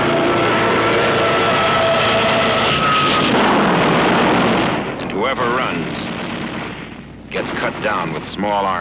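Artillery fire in a Korean War documentary, dense roaring blasts and rumble mixed with aircraft engine noise that later breaks into separate bursts, loud and continuous under a narrating voice.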